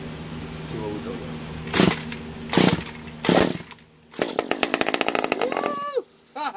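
A Stihl MS 193 T chainsaw roars in three short revving bursts, then runs in a longer rattling, sputtering stretch close by before dropping off, with a brief voice near the end.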